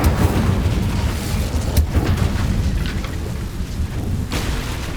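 Incendio fire spell blasting in Hogwarts Legacy, a loud rumbling roar with a few sharper bursts throughout, no talking.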